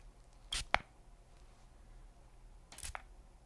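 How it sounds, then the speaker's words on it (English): A spray bottle pumped twice, each a short hissy burst of mist with a faint click, the two sprays about two seconds apart, close and soft in a quiet room. "That was a spray bottle."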